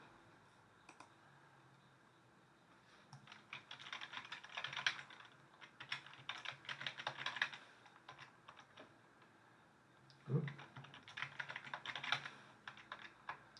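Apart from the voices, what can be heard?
typing on a computer keyboard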